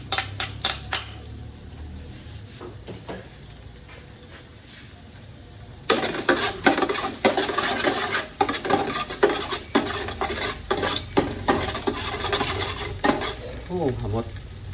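Garlic dropped into preheated oil in a pan, starting with a few clinks, then bursting into a steady close sizzle with repeated scraping and stirring strokes of a utensil against the pan, with no talking.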